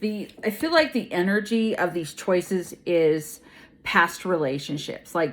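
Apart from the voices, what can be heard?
No distinct noise like a dog, phone or traffic.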